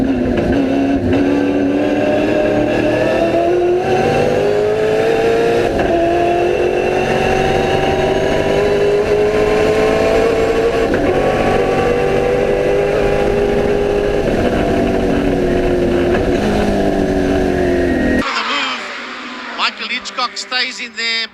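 V8 race cars roar loudly through a turn on a circuit, engine pitch rising and falling as they accelerate and brake. A commentator talks over them, and the engines cut away near the end.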